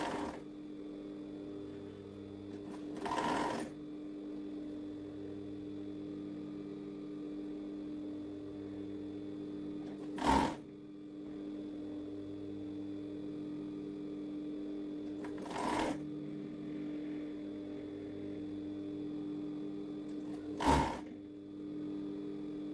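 A sewing machine stitching a t-shirt collar gives a steady, quiet mechanical hum throughout, with a few brief louder bursts of whirring at intervals, close by and without speech.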